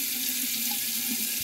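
Water from a tap runs steadily into a small bowl during a wet shave soap preparation, a close, continuous splashing stream heard alone.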